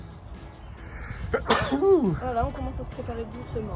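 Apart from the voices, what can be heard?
sneeze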